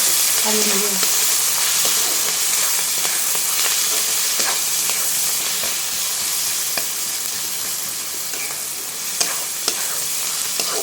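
Onion frying in oil while being stirred produces a loud, continuous crackling sizzle, broken by scattered scrapes and taps of the spoon against the pan.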